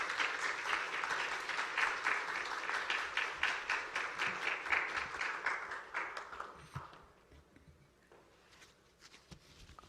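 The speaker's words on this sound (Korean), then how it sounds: "우리 강사님 박현숙 YM 간사님 나오실 때 큰 박수로 맞아주시기 바랍니다." A church congregation at a special Friday revival service claps to welcome a guest speaker: brisk, fairly quiet applause for several seconds that thins and fades out, leaving faint rustles and a few stray claps.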